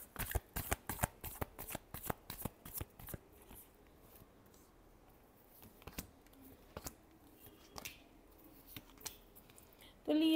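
Tarot cards being shuffled by hand, a quick close burst of crisp riffling flicks at the start, then sparser soft taps and card handling, faint overall.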